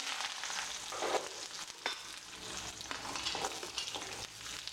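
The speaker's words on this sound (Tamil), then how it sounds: "இப்போ வந்து இந்த வெங்காயம் வெள்ளைப்பூடி போட்டுக்குவோம்" Onion and garlic fry and sizzle steadily in a pan for a minced meat curry, with soft stirring scrapes rising and falling over a constant crackle, no voices.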